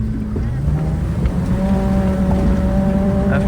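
A Citroën AX 4x4 climbing a steep snowy slope under acceleration, engine held at a steady strained drone that climbs slightly in pitch, close and continuous with some wind noise.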